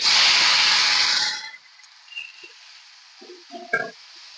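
Whole cumin and tomatoes dropped into hot oil over fried vegetables, a loud sharp sizzle that cuts off abruptly, followed by faint crackles and small clinks.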